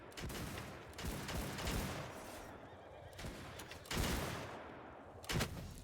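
Matchlock gunshots in Mount & Blade 2 Bannerlord ring out as several loud, sharp cracks spread unevenly through a steady battle din, with horses whinnying in the background.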